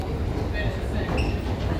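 Metro train at Rome's Termini underground station, a steady low rumble filling the platform throughout, with faint high squeals from the cars as it pulls away.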